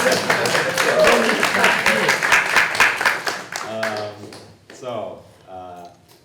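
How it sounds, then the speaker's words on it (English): A group claps together in an indoor class setting, with a dense burst of applause that fades out after about four seconds before a few voices talk. "you can clap first"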